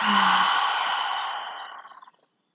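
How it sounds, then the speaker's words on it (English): A deep exhale through the mouth during a prenatal yoga breathing exercise, a single long breathy sigh that starts strong and slowly fades out over about two seconds, heard close and alone. "take a deep inhale through the nose. Exhale through the mouth."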